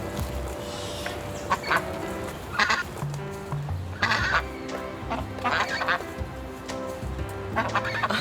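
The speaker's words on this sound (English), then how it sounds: "I hear birds." Geese and ducks honk and quack repeatedly outdoors in a backyard, irregular bursts of calls at moderate distance over a steady background hum, with no one talking.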